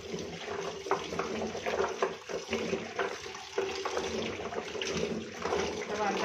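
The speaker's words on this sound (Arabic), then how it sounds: "لو ما عندكيش ميه دافيه، لو ميه بالحنفيه عادي" Tap water runs steadily in a kitchen sink while taro is washed under it, a continuous splashing flow close by with speech-like tones mixed in.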